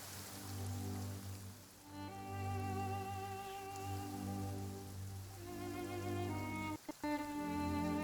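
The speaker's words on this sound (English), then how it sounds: "I love listening to the rain from the courtyard." Steady rain falls on a courtyard during the Windblume event in a video game, a soft continuous patter beneath sustained melodic background music with no voices.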